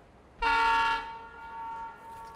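A train horn in the video game Escape from Tarkov sounds one loud, sustained harmonic blast of about half a second at a train station, then fades into a quieter tonal tail and low background noise.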